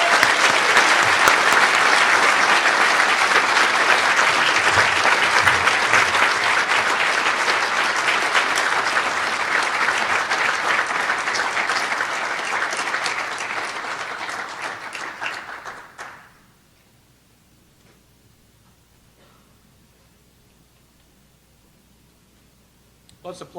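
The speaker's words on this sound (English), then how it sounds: "Let's applaud her up the stairs here." Sustained audience applause fills a hall at a university alumni awards ceremony as a 2017 Distinguished Alumni Award recipient comes forward, loud and steady for about sixteen seconds before cutting off to near silence.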